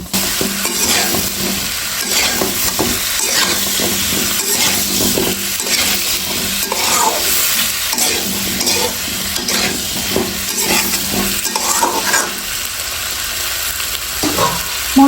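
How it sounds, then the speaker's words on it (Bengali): Cauliflower and potato pieces being stirred through spices in a hot pan, a steady loud sizzle broken by repeated scrapes and clatters of a spoon against the metal, with no voices. "নেড়ে চেড়ে এখন সমস্ত মশলার সাথে এই সবজিগুলো মিশিয়ে নেব"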